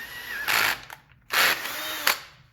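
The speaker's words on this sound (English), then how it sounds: "I have my drill on the lowest torque setting there, just to make sure when it bottoms out it stops." A cordless drill set to its lowest torque drives a tap down the bolt holes of a 1986-or-later Evinrude/Johnson 60–70 HP outboard during water pump replacement, giving three short whirring bursts close by with pauses between.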